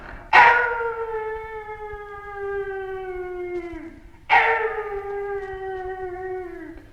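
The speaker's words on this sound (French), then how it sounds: "C'était le chien qui hurlait à la mort." Two long, mournful dog howls, each starting sharply and slowly sliding down in pitch, loud and close, with a short gap between them.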